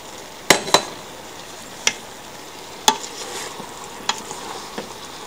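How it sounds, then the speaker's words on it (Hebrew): Chicken and vegetable rice stir-fry stirred in a pan, a spoon knocking sharply against the pan several times at uneven intervals over a faint sizzle. "מערבבת את הכל."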